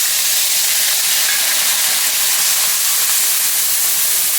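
Spice paste hits hot oil in a pan with soybeans cooking, a loud, steady, continuous sizzle and hiss throughout, without pauses or talk.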